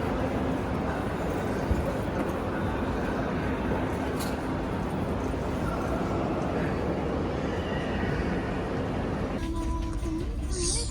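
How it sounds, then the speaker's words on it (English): Steady rumble of a train interior, a continuous low drone and rattle heard from inside a carriage before departure, with a faint background voice. "So guys, we're in the train."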